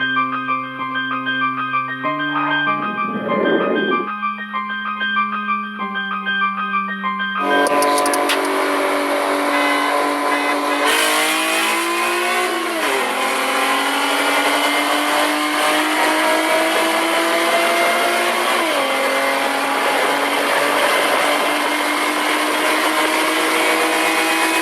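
A Ford Mustang S550 with a 3.7L V6 and ported intakes races alongside another car, its engine note holding a loud, steady high-revving drone that rises and shifts through gear changes, close and continuous with no talk.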